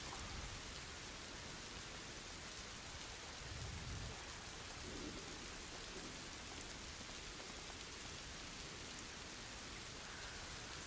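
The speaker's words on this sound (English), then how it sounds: "I like the rain sound effects" Steady rain in a video game pours down continuously, a dense hiss of drops with a faint low rumble at times; no one speaks.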